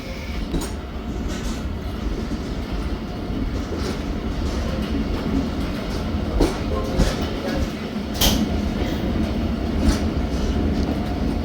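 Zakariya Express passenger train rolling along the line, a steady loud rumble of wheels and carriage with occasional sharper clacks over rail joints, continuous throughout.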